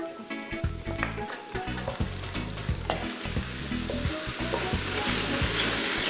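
Sliced yellow onion and the white part of green onion sautéing in a wok for beef chow fun, with steady sizzling and repeated scraping stir strokes that build slightly louder toward the end.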